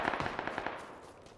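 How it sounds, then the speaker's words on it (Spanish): A rapid burst of video game gunfire, about eight quick shots in an even rhythm, fading into a lingering echo. "Uy, esos disparos."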